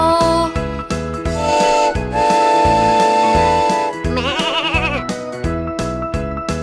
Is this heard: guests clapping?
no